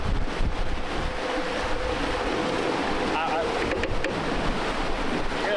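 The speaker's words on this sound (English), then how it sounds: "You hear that noise? That would be our rudder that we need to get fixed." Rough broadband rushing and wind noise aboard a boat underway with a faulty rudder in need of repair, steady and close, with faint squeaks and knocks mixed in.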